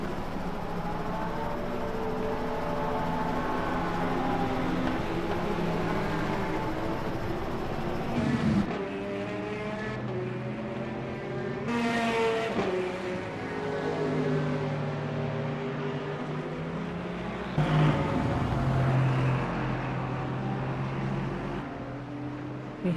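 GT3 race cars in the Le Mans Ultimate sim racing at Interlagos, engines droning steadily with rising and falling revs as cars pass and shift, a continuous loud pack sound with no talk.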